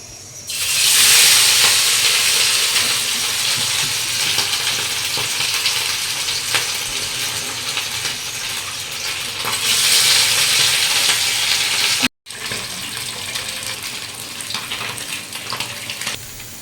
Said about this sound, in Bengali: এবার মাছটা ভেজে নেব কড়াই তেল বসে দিয়েছি তেলটা গরম হোক